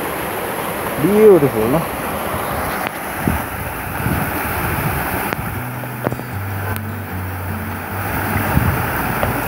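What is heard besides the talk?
water spraying out under heavy pressure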